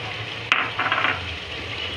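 Mutton frying in a hot pan with reddened onions, ginger and garlic, stirred with a brief clatter of a utensil, then a steady soft sizzle.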